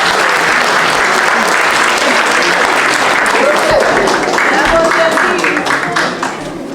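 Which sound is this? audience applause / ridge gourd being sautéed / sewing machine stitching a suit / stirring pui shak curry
audience applause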